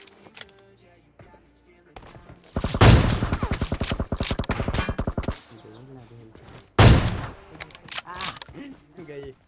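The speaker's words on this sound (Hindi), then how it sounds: "तो गाइस इस बंदे को भी फाइनली WM के 3 शॉट मारने के बाद ये बंदा खत्म होता है।" AWM sniper rifle shots in PUBG Mobile: a loud, close gunshot opens a rapid, rattling burst of fire lasting a few seconds, then a second heavy shot cracks out before quieter game sounds.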